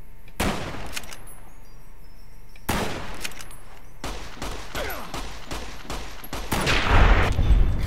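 Gunshots ring out in Fallout: New Vegas, with several loud, sharp reports separated by short gaps and a denser burst near the end, heard up close and alone without talk.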